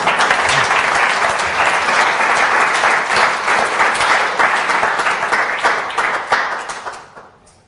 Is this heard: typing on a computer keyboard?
no